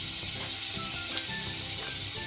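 Butter sizzling in a hot pan on the stove, a steady close frying hiss with faint crackles, continuous and alone without any talk.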